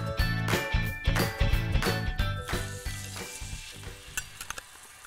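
Steaks sear on a grill pan, the sizzle loud and close and breaking into bursts and crackling pops that fade toward the end; no one speaks.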